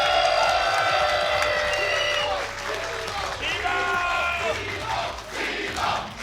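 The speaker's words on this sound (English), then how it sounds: "Hear the Teemo chants go off." A crowd at an offline fighting-game tournament roars with cheering and applause, voices rising together in a loud, sustained chant.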